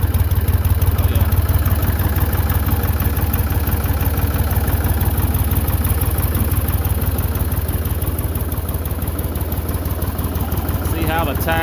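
Ford 3000 tractor engine idling in neutral, a loud, close, steady low chugging throb that holds evenly throughout.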